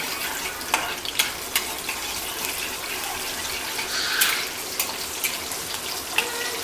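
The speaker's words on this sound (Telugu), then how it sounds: "ఈ ఆయిల్ కొంచెం హీట్ ఎక్కిన తర్వాత పచ్చిమిర్చి వేసుకుందాం. పచ్చిమిర్చి కొంచెం వేగనివ్వండి." Green chillies sizzle and crackle in hot oil in a pan, a steady hissing fry with occasional sharper pops, close and continuous with no talk.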